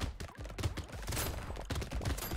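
Rapid explosions from a tripled nuke launcher in the arena game Brotato, a dense overlapping barrage of booms and crackles, loud and continuous without pause.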